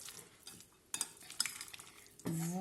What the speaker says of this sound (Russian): Перемешиваем наш фарш